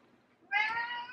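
A cat gives a single short, clear meow after a moment of near silence, close by and fairly quiet in an indoor home setting.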